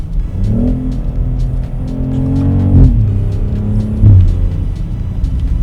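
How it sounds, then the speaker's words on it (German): A BMW X3 M50 SUV accelerates hard, its engine and exhaust, partly shaped by a sound generator, droning and rising in pitch through gear changes, with sharp dips at quick shifts, loud and close. "der Soundgenerator macht keinen schlechten Job, dass es trotzdem einigermaßen nach dem echten Auspuff tönt"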